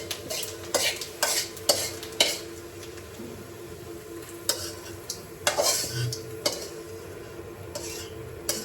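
Cooked dal goes into hot oil in a home kitchen, with a steady sizzle under repeated sharp clinks and scrapes of a spoon stirring against the pot, arriving in irregular bursts.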